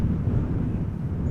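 An Air France Embraer 170 jet departs Amsterdam Schiphol bound for Marseille, a steady low engine rumble with wind noise and no voices.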